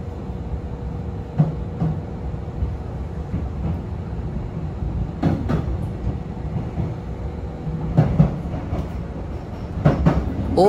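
A Kintetsu rapid express train bound for Yoshino rolls along the rails, heard from inside with a steady low rumble and rhythmic wheel clacks over the rail joints.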